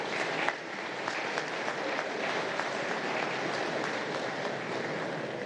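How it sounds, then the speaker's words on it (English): An audience at a formal anniversary lecture applauds, a dense, sustained wash of many hands clapping at moderate distance, steady for several seconds with no speech over it. "A round of applause for BCEAO."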